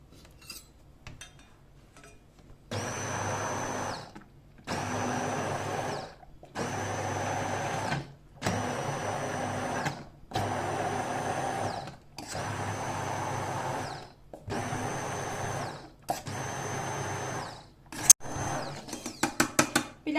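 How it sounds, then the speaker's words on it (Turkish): A blender purées cooked strawberry sauce in eight short bursts of roughly a second and a half each, separated by brief pauses, followed by clattering at the end. "Şimdi blenderdan çekeceğiz."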